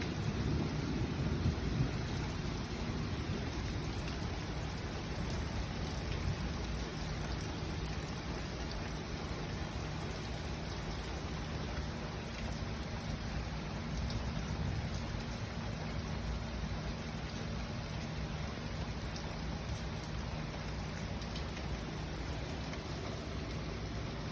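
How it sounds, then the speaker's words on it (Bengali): Steady rain pours down continuously, a dense even hiss with a low rumble beneath, no voices throughout. "অনেক ঝড় বৃষ্টি তুফান হচ্ছে"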